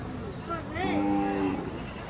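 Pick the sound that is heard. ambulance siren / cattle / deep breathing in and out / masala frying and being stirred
cattle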